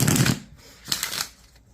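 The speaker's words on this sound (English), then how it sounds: "I'm just going to shuffle because I know everyone loves seeing the shuffling on the" Tarot cards shuffled by hand in a quick riffling burst at the start, then a second softer burst of card flutter a moment later, close and fairly quiet, with no talking.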